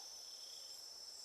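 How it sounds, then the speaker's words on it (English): Cicadas and other insects buzz in a summer bush, a steady high-pitched electric drone at moderate distance with no pauses and no voices. "It's like a buzz, and it's the sound of cicadas and other insects,"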